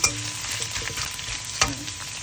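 Bamboo shoots stir-fried in oil, an old-style Thai dish, crackle in a steady sizzle with repeated scraping stirs and one sharper clatter near the end, close and fairly quiet.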